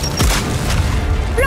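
A sudden booming blast hits at the start in the video game Gears 5, followed by rumbling debris and a rising whine, loud and close.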